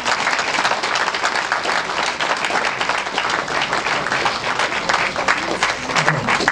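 A crowd at a New Year's greetings ceremony applauds award recipients, sustained dense clapping throughout at moderate loudness, with no voices rising above it.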